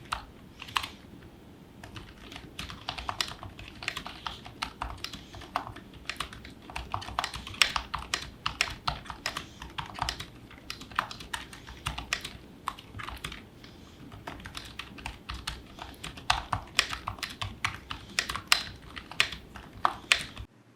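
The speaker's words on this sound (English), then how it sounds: "the keyboard doesn't sound half bad" Rapid clacky keystrokes on a modded Razer Huntsman V2 TKL mechanical keyboard, steady bursts of typing heard up close with no talking.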